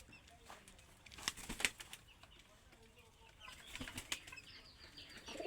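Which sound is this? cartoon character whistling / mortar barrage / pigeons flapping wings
pigeons flapping wings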